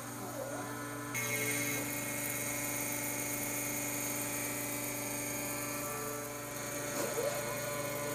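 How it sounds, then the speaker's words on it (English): A Taig CNC milling machine cuts stock with a 1/4-inch two-flute carbide end mill, giving a steady high-pitched whine with a brief spin-up at the start and a slight change in pitch near the end, heard alone without talk. "we can run our milling program and cut out our designs"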